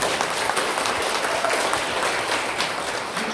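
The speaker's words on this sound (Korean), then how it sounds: "박수 한번 쳐주세요." An audience in a lecture hall breaks into applause, a full, steady roar of many people clapping at once, loud and close for the whole stretch with no talking over it.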